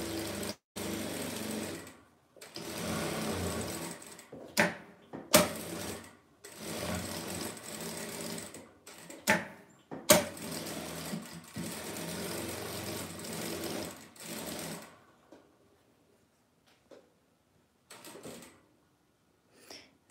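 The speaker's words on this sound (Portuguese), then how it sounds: "E agora a gente passa uma costura em volta dele todo." Domestic sewing machine stitching around a piece made from fabric scrap strips, a steady close whirring run broken by brief pauses and clicks, then stopping and fading to near silence for the last few seconds.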